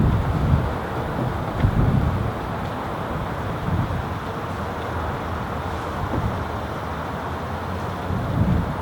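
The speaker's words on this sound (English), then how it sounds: "Tricky when it's this windy." Wind buffets the microphone aboard a moored sailing ship, a steady broadband rush with gusty low rumbles that swell and fade for several seconds, with no voices over it.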